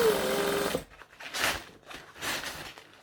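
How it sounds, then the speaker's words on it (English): A sewing machine runs a short burst of back stitching on fabric, a quick close mechanical whir lasting under a second, followed by soft handling rustles and quiet pauses. "So I'm just going to go to where I did the back stitching and do more back stitching."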